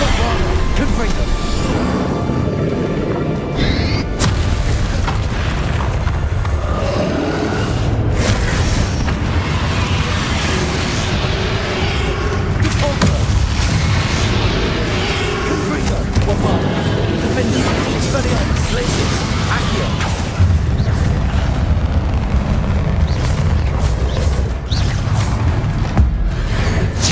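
Repeated booming blasts from the Confringo spell in the game Hogwarts Legacy, dense and continuous with layered impacts, crackle and a heavy low rumble throughout, with voices intermittently over the loud combat.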